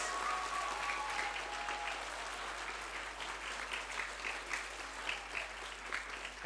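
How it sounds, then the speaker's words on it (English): Audience applause at a primary school musical at St. Stephen's International School, a full, sustained clapping that holds steady and slowly thins toward the end. "Can we give Miss Charlotte a big clap for her hard work, please"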